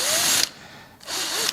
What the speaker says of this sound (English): So I just need to drill a bit more.